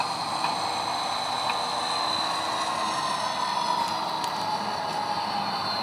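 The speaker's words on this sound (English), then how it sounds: "wait for the train to come by" A train rolls past in a train-operations video game, giving a continuous, even rumbling drone with a faint high mechanical whine and no pauses.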